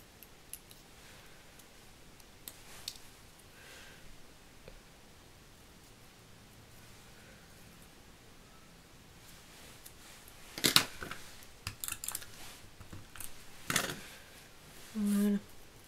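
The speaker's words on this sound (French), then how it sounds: "on coupe un peu plus petit" Scissors snip paper for a shabby-style Mother's Day card: a short run of crisp, close cuts near the end after a stretch of quiet paper rustling.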